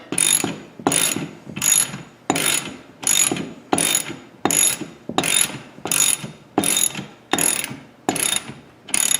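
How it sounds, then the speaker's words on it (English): A hand ratchet with a 1/2 inch socket tightens a nut during table saw assembly, giving twelve evenly spaced, close clicking strokes, each a short burst of ratchet pawl clatter with brief silences between. "Then I'm going to tighten this nut."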